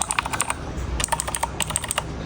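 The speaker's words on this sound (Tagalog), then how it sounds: "Yung gagamitin ko guys ay ito nga palang Red Dragon Kumara." Red Dragon Kumara mechanical computer keyboard being typed on, a quick run of sharp clicking keystrokes in bursts with brief pauses, close and clear with no talking.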